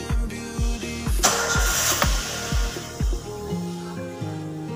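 A rebuilt car engine cranks and starts for the first time, with a loud rhythmic chugging of repeated heavy pulses that settles into a steady running idle, close by.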